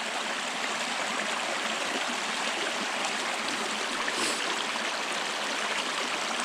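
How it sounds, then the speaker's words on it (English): Steady broadband rush of a stream at a trail water crossing on the Ouachita Trail, continuous and fairly close, with no voices over the flowing water. "It's like every 100 yards, you're running into a water crossing of some sort."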